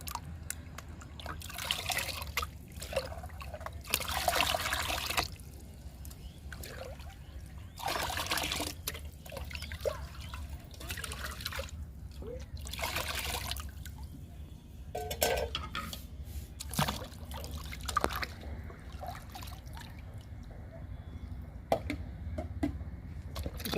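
Liquid plant fertilizer pouring and trickling into a bowl in uneven bursts with drips between, close and steady over a low background hum.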